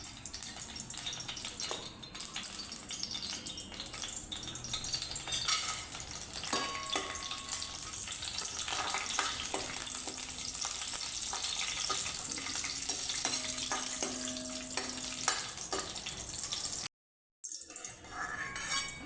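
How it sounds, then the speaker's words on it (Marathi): Dry fruits fry in ghee in a kadhai wok, giving a constant soft sizzle with scattered light clinks of a spoon against the pan and a short pause near the end. "त्याच्यामध्ये आपण घालूया तूप आणि तुपामध्ये सुका मेवा थोडासा परतवून घेऊन"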